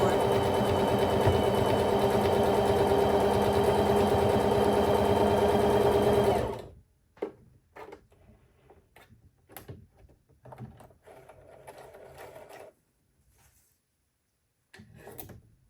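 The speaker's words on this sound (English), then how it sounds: "And then we're going to sew a few stitches just to make sure." A Singer sewing machine runs steadily for about six seconds, stitching a few stitches with a loud continuous whir, then stops and is followed by faint clicks and handling sounds.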